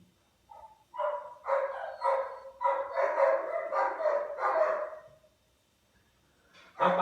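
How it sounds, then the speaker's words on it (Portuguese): Dogs bark in a run of several close, moderately loud barks, followed by a quiet pause and a final bark. "Os cachorros latindo."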